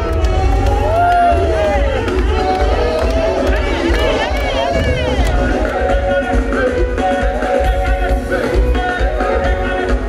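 A crowd roars and cheers at an outdoor summer concert on Place Calmette, its steady hubbub blending with loud live music throughout.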